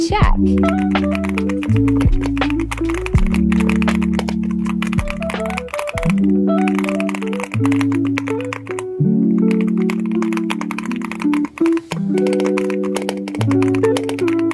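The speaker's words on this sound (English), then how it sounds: "This is the AULA-LEOBOG AMG65 Gasket Tri-Mode Mechanical Keyboard." Someone types on an AULA-LEOBOG AMG65 gasket tri-mode mechanical keyboard, a rapid stream of close, crisp key clacks under loud background music.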